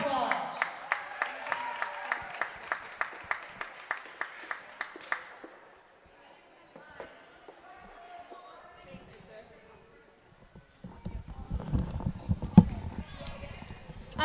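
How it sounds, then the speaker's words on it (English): Crowd in a gym at a girls basketball game between Fairfield Woods and Roger Ludlowe, first clapping in a steady rhythmic beat, then quieting before a fuller burst of applause and crowd noise, with voices audible. "One more round of applause."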